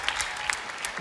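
A TV show audience claps on a Muay Thai episode of the Indonesian show DMD Juara, a brief burst of close, crowded applause with a few sharper individual claps standing out and no talking.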